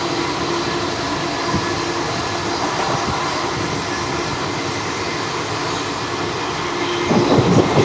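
The 22953 Gujarat Superfast Express runs along the rails, its steady rolling rumble and wheel noise heard continuously from inside an AC chair car, swelling slightly louder near the end.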